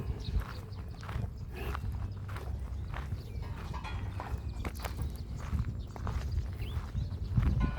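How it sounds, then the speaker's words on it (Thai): Shoes on a hard surface at a Thai temple under construction: steady walking footsteps, fairly close and moderately loud, over a constant outdoor background hum, with no talking. "สียงรองเท้านี่ขนาดว่าเดินเบาก็น่าจะดัง"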